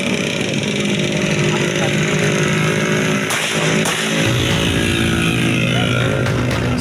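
Loud, continuous roar of hundreds of motorcycles with harsh, rasping modified exhausts, revving and droning without a break.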